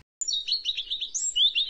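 A sparrow's rapid chattering song, a steady stream of bright, close chirps and twitters with no other sound behind it.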